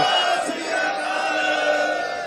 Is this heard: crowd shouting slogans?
yes